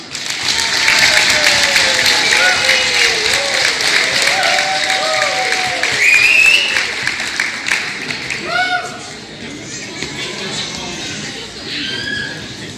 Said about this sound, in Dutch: Daar mag best een applaus vanavond.